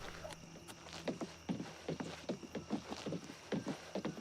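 A horse's hooves clopping in the video game Oblivion Remastered, a quick, evenly paced run of distinct hoofbeats heard close and clear over a faint steady background hum, with no talking.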